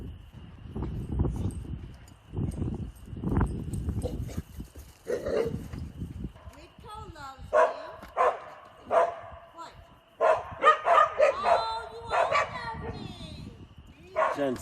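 Several dogs barking and yipping in excited bursts outdoors amid wind noise, with people talking at first before the barking takes over.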